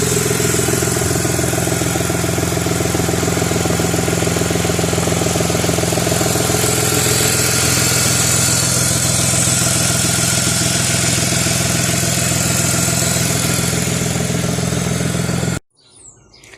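A BMW 320Ci E46's 2.2-litre straight-six engine idles steadily and close by, a continuous even rumble that cuts off abruptly near the end.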